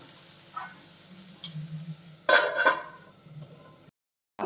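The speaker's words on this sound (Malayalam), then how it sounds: "നമ്മൾ ഫ്ലെയിം കുറച്ച് വെച്ച് ഒന്ന് വഴറ്റിയെടുക്കണം" Bitter gourd sautéing in a pan over a low flame, a soft steady sizzle with a louder burst of frying and stirring noise midway, then a sudden cutoff near the end.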